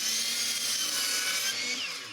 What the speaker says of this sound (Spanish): Aseguramos que la sierra esté bien colocada y cortamos.